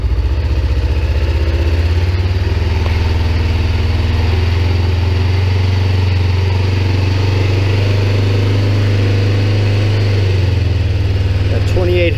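A motorcycle engine idles steadily just after starting, a loud, even low rumble holding constant throughout with little change in pace.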